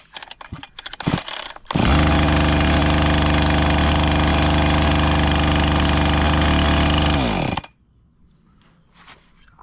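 A used Husqvarna 445 chainsaw, worn and rebuilt after damage, starts and runs loud and steady at high idle for about six seconds, then cuts out abruptly, leaving faint handling noises before and after.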